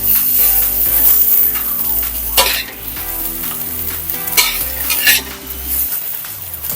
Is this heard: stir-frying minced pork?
yes